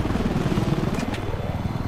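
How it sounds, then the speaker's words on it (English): An attack helicopter in Battlefield 4 thrums with a steady low rotor pulse and engine drone, fairly close and continuous, with a couple of faint higher swishes partway through. "Attack chopper, left side."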